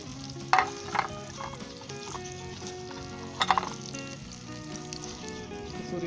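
Anardana (pomegranate seeds) fry in a pan for Punjabi karhi. A soft sizzle runs under two bursts of spoon clatter and stirring, one near the start and one midway.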